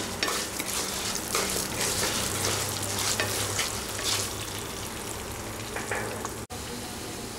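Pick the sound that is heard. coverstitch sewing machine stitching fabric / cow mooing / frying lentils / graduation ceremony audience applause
frying lentils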